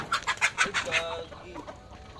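Chickens cluck in a quick rhythmic series close by, then settle into softer scattered clucks and calls.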